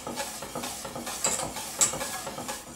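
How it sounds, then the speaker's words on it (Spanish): Custard is stirred continuously in a pot over low heat, giving repeated soft scraping and swishing strokes at a steady rhythm, close and moderately loud, with faint sizzle beneath. "tenemos que ir removiendo todo el rato, sin dejar de remover para que no se nos hagan grumos"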